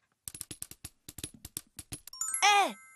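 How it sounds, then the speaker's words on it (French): Tap steps on metal bottle caps: a quick run of about a dozen sharp clicks in uneven rhythm, close and fairly loud, ending with a brighter ringing jingle as the caps rattle together. "je fais des claquettes en dansant sur les capsules"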